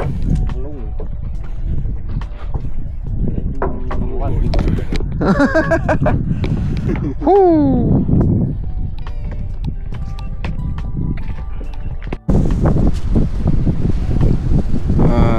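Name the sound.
strong wind at sea during night fishing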